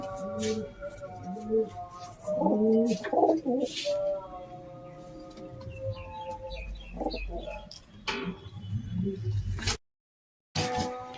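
Racing pigeons coo repeatedly inside a coop, their soft throaty calls overlapping in bursts with some voices mixed in and a brief dropout near the end.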